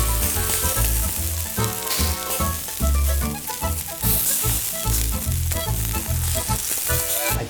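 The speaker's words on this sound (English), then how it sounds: "So we're continuing to render our guanciale." Guanciale and onion sizzle loudly in a pan as the fat renders, a constant frying hiss mixed with a strong rhythmic backing of music and no talk over it.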